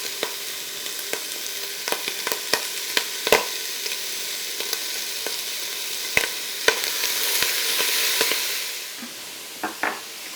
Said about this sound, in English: we're gonna put it in that celery to get that nice and softened. And then add our onion.